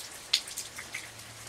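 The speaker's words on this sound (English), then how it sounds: "and it's raining." Rain falls steadily on a rainy South Carolina morning, a soft constant hiss with a few faint nearby drips, heard alone and quiet.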